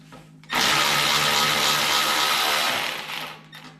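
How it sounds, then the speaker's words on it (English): A Milwaukee battery-powered ratchet whirs loudly and steadily for about two and a half seconds while undoing nuts on a snow blower, then winds down; no talking. "I've got my Milwaukee battery operated ratchet"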